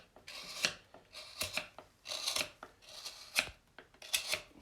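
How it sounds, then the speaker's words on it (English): Spoon carving hook hollowing the underside of a wooden lámhóg, repeated scraping, rasping strokes in an irregular rhythm, close and quiet. "use a spoon carving hook to hollow the underside"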